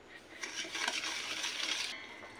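A spoon or whisk stirs puto flan batter of sugar and oil in a bowl, a steady scraping and swishing that stays close and fairly soft, with no talking.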